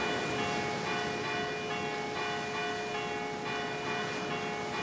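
Church bells ring out in a sustained, overlapping peal, their tones hanging steadily in the air without pause.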